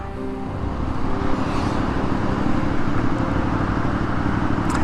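An Aprilia Shiver 900 motorcycle accelerating hard on a road run, heard from the rider's position as a loud, steady engine roar mixed with rushing wind, swelling slightly and holding high without a break.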